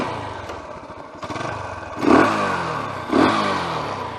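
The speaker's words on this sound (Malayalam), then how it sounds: "ഓടിക്കുന്നതിന് മുമ്പ് ഞാൻ എൻ്റെ എക്സോസ്റ്റ് നോട്ടൊന്ന് കേൾപ്പിച്ച് തരാം." A TVS Apache RTR 180 BS4 motorcycle fitted with an air filter idles with a rough, close exhaust note. The engine is blipped twice, and each rev rises sharply and then falls back to idle.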